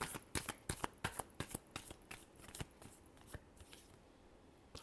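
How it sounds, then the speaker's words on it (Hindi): A deck of tarot cards is shuffled by hand, giving a quick run of crisp, papery riffling clicks that thin out and slow toward the end. The sound is close and fairly quiet. "last shuffle"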